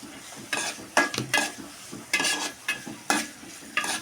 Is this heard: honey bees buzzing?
no